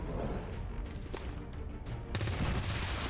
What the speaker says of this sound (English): I'm probably just gonna grenade that guy